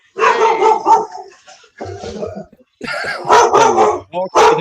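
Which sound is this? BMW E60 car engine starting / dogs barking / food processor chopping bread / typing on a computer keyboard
dogs barking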